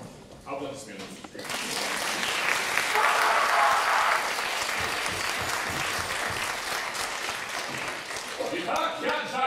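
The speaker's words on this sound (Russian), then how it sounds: "Аплодисменты." Sustained applause from a theatre audience at a chamber music theatre's Puccini opera performance fills the room, a dense wash of clapping that swells, holds steady, then tapers as a voice returns at the end.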